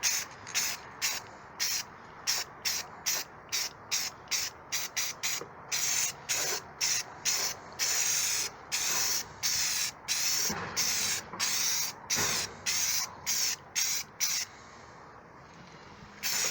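Short repeated bursts of spray paint hissing inside a taped-up display case lined with particle board, about two dozen evenly spaced close sprays followed by a softer sustained hiss.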